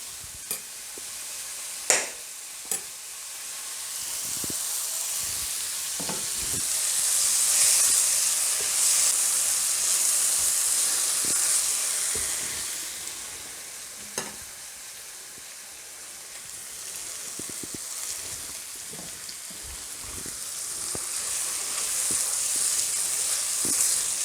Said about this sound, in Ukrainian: Цибуля карамелізувалася, тож поступово вводимо масло.